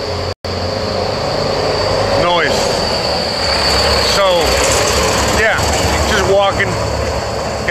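Loud rush-hour street traffic in Merida, Mexico: a dense, continuous roar of engines and idling vehicles, with several passing vehicles sweeping by up close.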